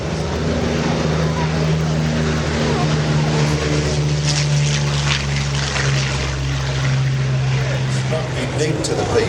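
Curtiss P-40 warplane flying at the Temora airshow, a steady propeller-engine drone with sustained low harmonics throughout, moderately loud and continuous with a commentator talking over it.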